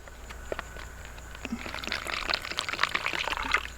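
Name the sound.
water poured from a US canteen into an MRE drink pouch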